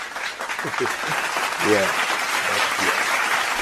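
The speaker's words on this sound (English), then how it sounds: "Now clap." A group claps steadily throughout, a dense even patter of many hands, with voices cheering and a short spoken exclamation over it.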